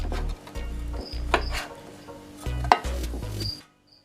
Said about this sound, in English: So what I'm going to do now, I'm going to flip it around.